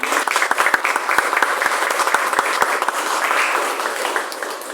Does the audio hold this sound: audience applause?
yes